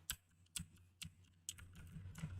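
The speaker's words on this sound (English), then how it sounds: "I can move my sprite around using the W, A, S, and D keys of the keyboard" The W, A, S and D keys on a computer keyboard are pressed in a handful of separate, evenly spaced clicks, close but quiet, with no voices.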